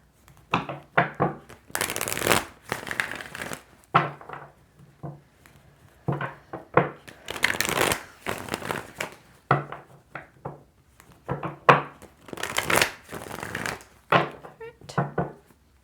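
Tarot cards are shuffled and pulled in quick bursts of riffling and soft slaps, with clustered flurries and short pauses between them, close up and fairly crisp.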